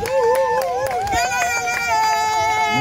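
Wedding guests at a civil marriage ceremony acclaim the couple with wavering, high ululating cries and sharp claps, a lively close-up burst of celebration.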